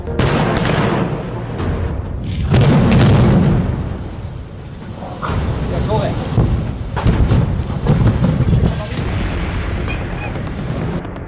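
A controlled demolition blast brings down the Chandni Chowk bridge structure in Maharashtra, heard as heavy, rumbling booms and loud broadband bursts that roll and repeat over roughly eleven seconds, with narration running beneath.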